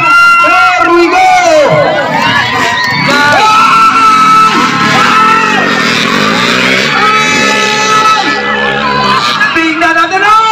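Crowd at a motocross race in Calubian, Leyte, shouting and cheering loudly, with motorcycle engines revving and whining underneath and an announcer's voice over the dense, continuous din.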